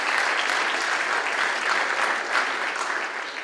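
Audience applause at a formal government session following a national anthem performance, a steady dense patter of many hands clapping throughout, moderately loud with no talk over it.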